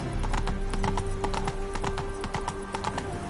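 Roach, a horse in Witcher 3, beats out quick, crisp hoofbeats in a rapid trotting rhythm, close and clear over a faint sustained tone.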